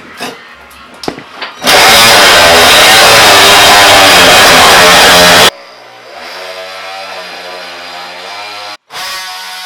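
Power tool cutting cement backer board for a bathroom renovation shower, a loud continuous grinding whine for about four seconds, preceded by brief clatter and followed by lower ongoing hum and handling noise.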